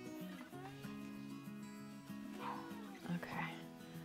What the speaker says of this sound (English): She's barking at nothing.